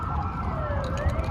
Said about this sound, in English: there are some people in trouble around here with these sirens